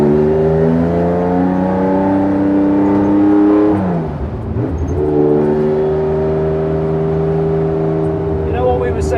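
Lightweight Porsche 911 engine driving, a loud steady engine hum that drops and dips briefly around a gear change before settling back to a constant drone, heard from close by.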